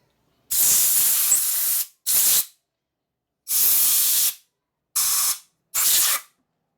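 Five loud bursts of compressed air hissing out in quick blasts into a carburetor hole on a Linkert M35 carburetor, the first long and steady, the rest shorter, with silent gaps between.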